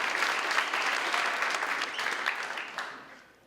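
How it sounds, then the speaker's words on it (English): An audience at an annual civic and community awards ceremony gives a full round of applause, dense and sustained before tapering off over the last second. "A massive round of applause to those people as well"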